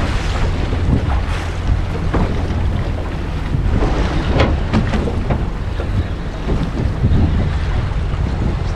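A fishing boat turns on Sydney Harbour, with constant wind rumble buffeting the microphone and water sloshing against the hull, loud and steady throughout.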